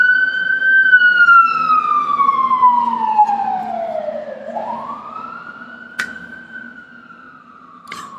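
A wailing siren sweeps slowly down in pitch, then back up, loud and fairly close, with a few sharp knocks in the background.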